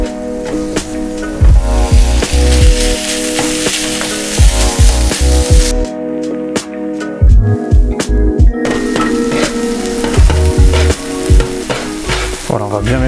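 Potatoes and meat fry loudly in a pan for Tochigi-style yakisoba, a dense close crackling sizzle broken by frequent scraping stirs of a utensil, with a brief lull in the middle and no voices.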